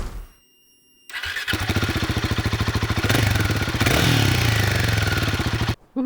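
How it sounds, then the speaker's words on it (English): A Royal Enfield Himalayan 450 motorcycle cranks and fires up after a moment of quiet, then settles into a loud, close, rhythmic idle with a slight rev midway. "Woohoo! First ride, let's go."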